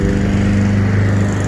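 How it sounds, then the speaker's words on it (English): A Greenworks Pro 80V battery lawn mower runs at steady speed, its motor and blade giving a loud, close, continuous whirring drone with no pauses. "So we cut the grass down using the Greenworks lawnmower,"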